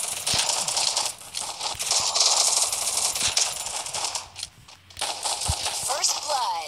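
SMG fire in a video game: rapid bursts of sharp shots rattling over a dense, busy game soundscape, with a brief lull before the firing picks up again.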